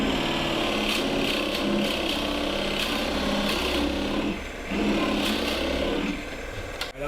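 Wood being turned on a lathe slowed to roughly 700–800 rpm while shaping a cryptex part, a steady continuous scraping and rubbing drone with faint rhythmic ticks, loud and close throughout with a brief dip midway.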